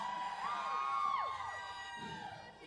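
A concert crowd at a tribute weekend in Texas screams and cheers, with high shrill shrieks rising over a general roar of the audience, fairly loud and sustained before fading slightly.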